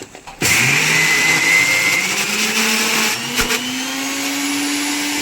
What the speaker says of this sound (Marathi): आता याला मिक्सरमध्ये पिसायचं